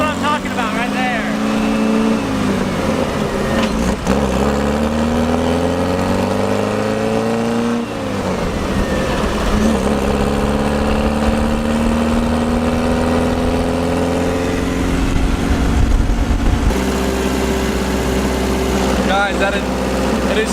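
A 1970 VW rail buggy's engine drones loudly while driving, its pitch climbing and falling as it accelerates and shifts. A person talks over the steady engine noise.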